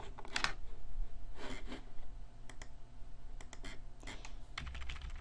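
Close computer keyboard typing comes in short irregular bursts of clicky keystrokes with pauses between them, heard alone over a low steady background hum.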